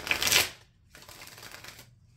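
A deck of cards is riffle-shuffled close up: a loud, brisk ripple followed by a pause, then a softer, longer second riffle.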